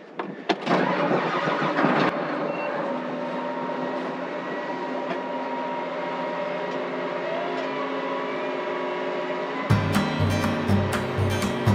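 A large farm machine's engine cranks and fires up during harvest, then settles into a steady, loud rumbling idle that shifts to a heavier throb near the end.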